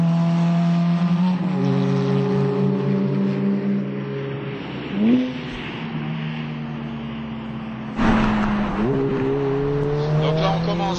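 A Ferrari F430 laps the new Circuit des Écuyers near Château-Thierry, its engine droning steadily and rising in pitch through the gears, with sharper revving bursts near the middle and the end and a voice talking over it.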